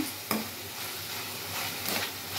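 Onions and green chillies fry in oil with a continuous close sizzle, a sharp clink or stir near the start and brief stirring scrapes later, with no talking.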